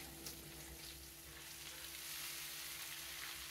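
Boiled basmati rice hits a pan of ghee with onions, a constant, dense, quiet frying hiss that holds steady throughout with no speech.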